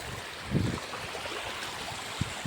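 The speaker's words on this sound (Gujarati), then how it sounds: "જો મિત્રો આટલું પાણી જાય છે અને આટલું ખેંચે છે મિત્રો." Heavy-rain floodwater surges steadily over a village road between Vanthal and Jalampura, a continuous broadband rush with a few heavier splashing swells, close and moderately loud, with no talking.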